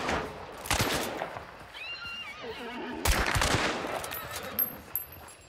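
Shotgun blasts in Hunt: Showdown, two loud close booms a couple of seconds apart, surrounded by a neighing horse, rustling movement and other gunfire in the background.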